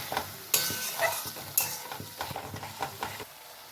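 Spice paste and tomato frying for a paneer curry, with a steady sizzle broken by scraping spatula strokes and light clinks of a pan, close and fairly quiet, no talking.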